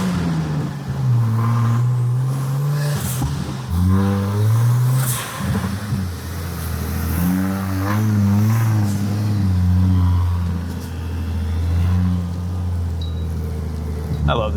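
A turbocharged Jeep engine runs in low gear, growling and rising in pitch as it revs and pulls, with a voice heard over the engine.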